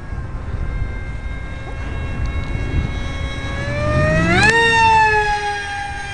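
A scratch-built RC F-18 model jet flies overhead, a high whining motor tone that rises sharply in pitch as it swoops close and loud, then holds a bright steady whine; no talking.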